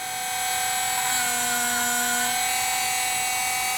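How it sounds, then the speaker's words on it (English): A small drill bores a hole in the fuselage of a Samba Prestige 2PK Pro F5J model glider, giving off a steady, close, high motor whine that holds for a few seconds with no talk. "I'm not going to drill all the way through."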